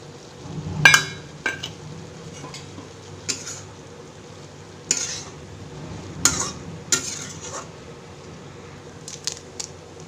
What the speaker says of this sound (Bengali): এবার আমি ভাজা ডিম আর পেঁয়াজটাও মিলিয়ে দেবো